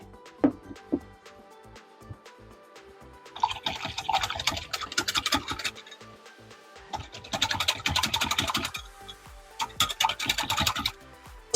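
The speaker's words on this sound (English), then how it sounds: "Give it a good whisk." A whisk beats cornstarch, brown sugar and pepper flakes together in a bowl, two bursts of brisk, scratchy clicking strokes close by, separated by quieter handling sounds.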